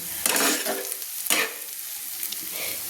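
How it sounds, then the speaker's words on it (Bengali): Potatoes and drumstick flowers fry in a pan, a steady close sizzle broken by several louder scraping stirs, with no voices. "আলু আর সজনে ফুল আমার একদম ভাজা হয়ে গেছে"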